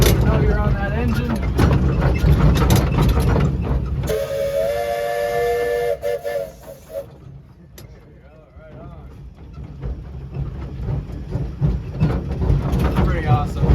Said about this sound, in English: that's pretty neat whistle. It's a South African tritone.